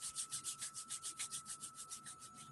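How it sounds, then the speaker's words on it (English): Two hands rub briskly together during a seated t'ai chi warm-up, making a soft, close swishing that repeats in a steady rhythm of about seven strokes per second, with no voices. "just rubbing your hands together"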